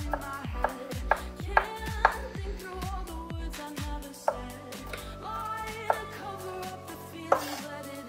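Knife chopping small vegetable bits on a cutting board while cooking chili, a run of close, crisp strikes in uneven bursts, then a pause and a few more scattered chops with light clatter, no talking.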